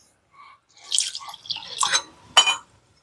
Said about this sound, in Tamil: இப்போ நீங்கள் வந்து இதை வந்து தண்ணி ஊற்றி